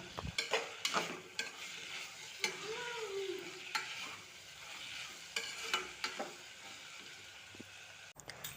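Mixed vegetables for veg pulao are stirred and fried in a pan, a steady soft sizzle broken by repeated scraping strokes of a spoon against the metal, close and moderately quiet, with no voices.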